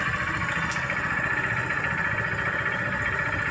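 A Supremo TMX 150 motorcycle engine idles steadily at low RPM, around 1,500, after a carburetor adjustment, a continuous even rumble close to the microphone with no talk.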